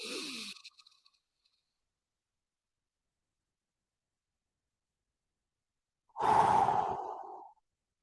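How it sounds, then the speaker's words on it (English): A deep breath taken alone in a quiet room, a brief airy breath at the start, a long silence, then a fuller, louder exhale lasting about a second and a half. "okay, I'm gonna breathe"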